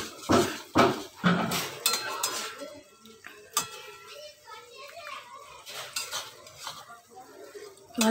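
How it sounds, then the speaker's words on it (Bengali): Fried prawns being stirred into curry gravy in a metal pan, with clattering spoon-on-pot knocks and scraping mixed under a woman's speech and children's voices nearby. "আমাদের যে চিংড়ি মাছ ভাজাটা রয়েছে মাছটা দিয়ে দেব ঝোলের মধ্যে। দিয়ে আমরা ভালো করে কষিয়ে নেব।"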